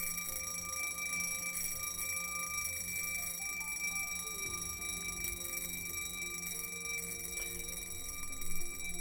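Vintage mechanical wristwatch alarm chiming continuously, a bright steady metallic ringing with sustained high tones, fairly loud and close, with no talk.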